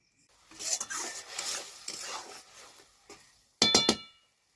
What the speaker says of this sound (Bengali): তারপর মশলাটাকে ভালোভাবে নাড়িয়ে চাড়িয়ে নেব নেড়ে চেড়ে ভালোভাবে একটু কষিয়ে নেব মশলাটাকে